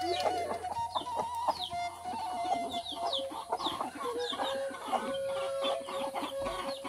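Several chickens at a rural home on the edge of a forest cluck continuously and fairly close, their overlapping calls forming a busy, uneven chatter with occasional higher squawks.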